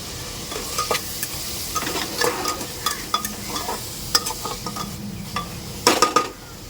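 Onions fry in a pan for minced-meat karela filling, a constant sizzle broken by frequent scraping and clinking strokes of a spoon stirring against the pan, close and fairly loud.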